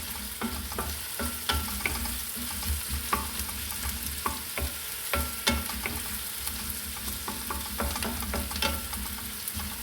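Pirandai (adamant creeper) thokku being sautéed in a pan until dry, a constant close sizzle with frequent clicking spatula stirs and scrapes throughout, no one speaking.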